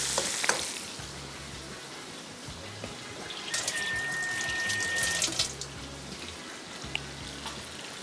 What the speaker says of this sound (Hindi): जैसे ही मक्खन मेल्ट हुआ, चॉप किया हुआ प्याज, लहसुन, इसको बिल्कुल हल्का सा फ्राई करेंगे